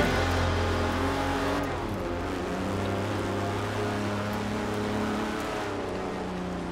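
A car engine drives along in Forza Horizon 4, a steady loud drone with shifting pitch, eases off near the end, with no talking over it.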